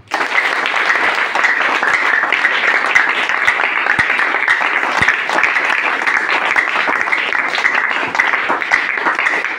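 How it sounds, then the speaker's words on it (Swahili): Church congregation clapping during a sermon, a loud sustained wave of many hands applauding together in a large room, steady and continuous throughout. "Piga makofi hapo."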